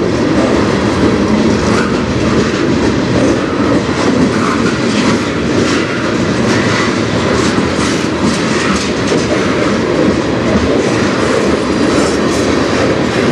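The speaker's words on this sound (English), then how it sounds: "There's another train going behind it the other way." A train passing on the Strathroy railway line, loud, continuous rumbling and clickety-clack of rail cars close by, steady throughout with no talking.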